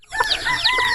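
Farm chickens cluck and call loudly up close, overlapping high squawks and clucks in a busy flock while being fed, no voices.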